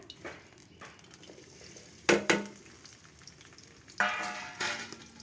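Sliced onions and slit green chilies frying in hot oil in a wok, a low steady sizzle broken by two bursts of louder crackling and spatter as pieces hit or are stirred, close by with no talk.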